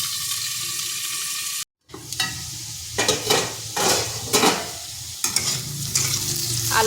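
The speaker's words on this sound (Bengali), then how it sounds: "স্লো টু মিডিয়াম আঁচে রেখে আলুটাকে একটু ভাজা ভাজা করে নেব" Potatoes fry in a pan over slow-to-medium heat, salted, for a spicy vegetarian okra masala, giving a steady close sizzle broken by a brief silent gap and repeated scraping stirs.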